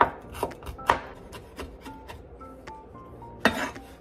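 Ginger chopped with a knife on a board, a series of sharp, close thuds at an uneven pace, with a pair of louder strikes near the start and end.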